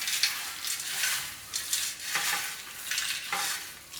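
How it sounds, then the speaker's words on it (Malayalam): Hands mix a Kerala-style mixture snack of crunchy fried bits in a bowl, making steady crackly rustling in repeated surges. The sound is close and moderately loud, with no talk. "നന്നായിട്ട് കൈവച്ച് തന്നെ മിക്സ് ചെയ്യാം കേട്ടോ"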